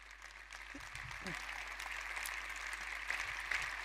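Keynote audience at a festival applauds in a soft, distant, steady patter of clapping, with a voice briefly audible early on.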